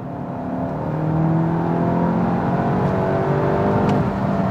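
A 2022 Volkswagen Golf GTI Mk8 cruising in comfort mode, its engine a steady, even hum with a low whir from inside the cabin, holding one level throughout with no revving peaks.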